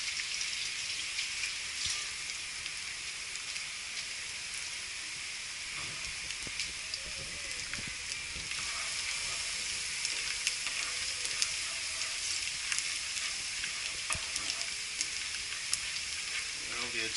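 Garlic sizzling in hot oil in a pan for a Filipino kare kare dish, a steady bright crackling hiss with scattered pops running throughout at moderate level.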